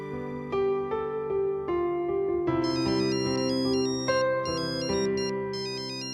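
A melodic phone ringtone plays on its own, a bright tune of sustained electronic notes that rises in pitch and gets busier partway through.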